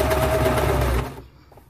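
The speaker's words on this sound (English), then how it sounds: "I will be sewing now along that 5/8 inch seam." A sewing machine runs a zigzag stretch stitch along a shirt seam with a close, steady rapid whirr that stops abruptly near the end.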